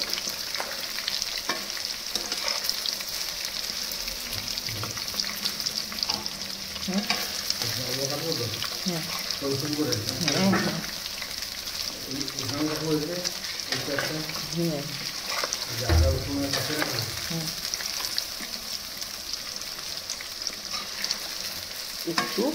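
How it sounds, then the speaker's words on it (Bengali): Soybean chunks fry in a pan for chili soybean, a constant loud sizzle with scraping stirs and occasional utensil knocks throughout, close by and without speech. "একটু মোটামুটি খুব কড়া করে ভাজবো না, তার মধ্যে একটু ভেজে নিচ্ছি।"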